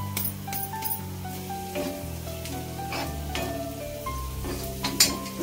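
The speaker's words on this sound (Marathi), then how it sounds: "आपण परतून घेऊया. गॅस लो आहे." Vegetables sauté in a pan over a low gas flame while bitter gourd curry is prepared, with a soft continuous sizzle broken by clinks and scrapes of a spoon stirring against the pan.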